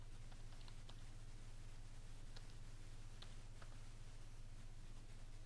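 Light typing on a computer keyboard while entering a command in a Python conda environment: a few scattered, faint key taps over a steady background hum, with no talking.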